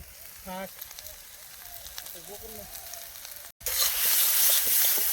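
Ground cumin and coriander spice mix dropped into hot oil in a pan, outdoors in a village field, bursting into a loud, bright sizzle after a quiet stretch with someone talking.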